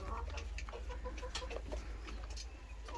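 A white rooster clucks in short, soft bursts close by, against a low steady rumble of background noise.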